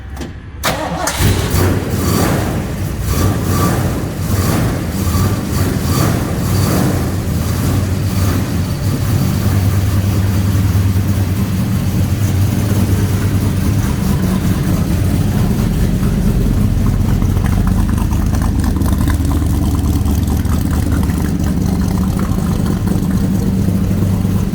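A 1971 Ford Falcon XY GT cranks with a rapid starter whirr for about a second, fires, then settles into a deep, loud, rumbling V8 idle that runs steadily and close by.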